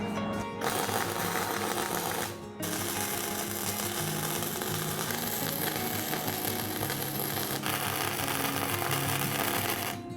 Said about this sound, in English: once we flip it over, I'll put another weld on that side as well